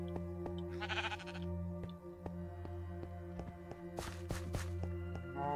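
Sheep bleat a few times in Minecraft over a humming, tonal game background, with soft footstep-like taps and sparse clicks; no one speaks.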